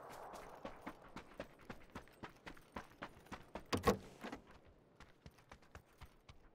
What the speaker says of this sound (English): I just hear footsteps everywhere.